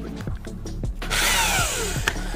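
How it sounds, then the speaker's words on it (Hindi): A power drill drives screws into a bike tyre to make a spiked tyre, the motor whirring loudly and steadily after a few short knocks and taps. "आप देख सकते हैं हमारे पास है ड्रिल और इसमें है स्क्रू"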